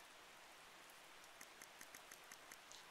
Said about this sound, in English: I have to turn on the rain sounds in anyone's house I decorate.